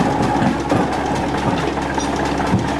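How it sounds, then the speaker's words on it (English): Small steam hoist engine at a gold mine lifting an ore bucket up the shaft, a steady close mechanical chugging and rumble with faint rhythmic knocks, continuous and without talk. "working the little steam engine here, and he's going to bring them up for us"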